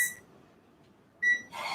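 A microwave keypad is pressed while a cooking timer is set for a batch of pumpkin muffins, giving short, bright electronic beeps: one at the start and another about a second later, followed by a burst of rustling kitchen noise.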